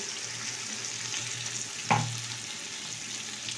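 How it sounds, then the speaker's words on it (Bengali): Turmeric stirs in a frying pan with a soft, steady sizzle, broken by one brief scrape of the spoon midway. "হলুদ দিলাম, এবারে আমি নাড়াচাড়া করছি।"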